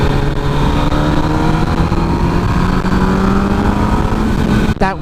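A 2007 MV Agusta F4 1000R motorcycle drones loudly and steadily while riding, its engine note climbing slowly through a gear before a brief dip near the end that suggests a shift.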